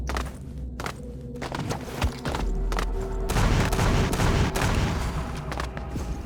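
Gunfire in the online shooter game Avatar Star: a dense burst of rapid shots and sharp cracks over a rumbling background, loud and continuous in the second half.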